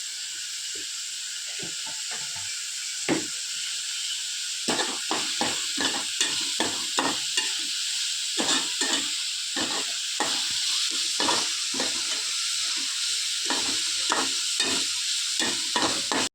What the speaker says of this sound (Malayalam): ഫ്രൈക്കുള്ള ചെമ്മീൻ റെഡിയായി വരുന്നുണ്ട്